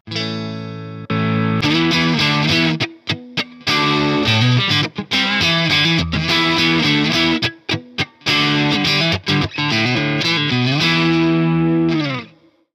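Electric guitar through an Origin Effects Revival Drive overdrive pedal with a warm mid-gain crunch, playing loud chords and riffs with short gaps, ending on a sustained ringing chord.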